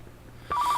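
A telephone in the Car Mechanic Simulator 2015 garage starts ringing abruptly after a quiet hum, a steady electronic tone lasting the last third of a second.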